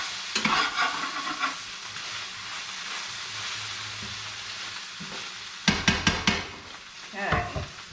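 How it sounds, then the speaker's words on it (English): Meat and fried ramen with cabbage sautéing in a hot pan, a continuous sizzle broken by scraping stirs and several bursts of clattering utensil strokes against the pan near the end. "before you mix them together, you want to saute your meat"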